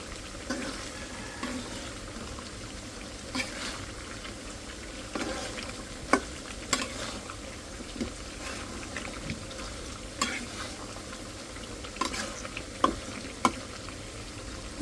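Onion, garlic and chili fry steadily in oil for dal, a soft continuous sizzle with occasional sharper pops and stirring clinks throughout.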